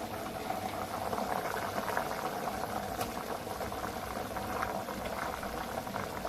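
Pot of boneless mutton curry with ground masala bubbling steadily on the stove, a soft continuous simmering burble at close range.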